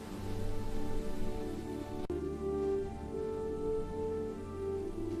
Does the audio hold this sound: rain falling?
yes